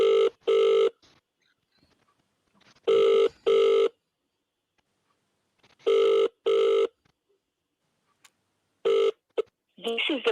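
UK phone ringing tone on an unanswered call to a Vodafone mobile, a double burble heard four times at steady intervals with silence between, clear and close, then a brief burst of other sound at the end.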